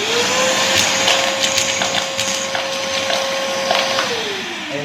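A vacuum blower runs steadily with strong suction, a loud continuous whine with a sustained tone that shifts slightly at the end, heard alone without talk.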